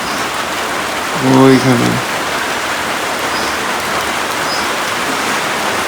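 Steady rain falls outside in a village, a continuous close hiss of drops on surfaces throughout, with a brief burst of voiced sound near the start and a short word spoken over it.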